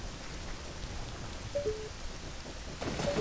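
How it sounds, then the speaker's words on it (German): Steady rain in The Legend of Zelda: Ocarina of Time, a soft continuous hiss of falling drops with a few brief tonal game chimes over it, no talk. "Es regnet."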